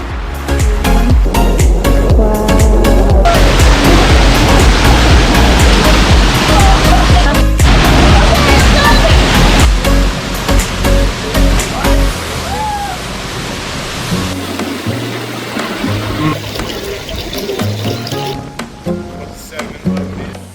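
A steady, loud roar of rushing water from Clear Creek waterfall in the Grand Canyon fills the clip, easing somewhat later as a voice talks over it.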